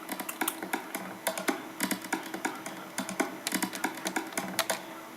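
Soloed tribal-style percussion tracks from an electronic music production, a busy run of dry, clicky taps and hits in quick irregular clusters, fairly quiet and alone without voices.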